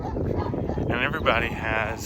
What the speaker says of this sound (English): you can hear the dogs barking behind me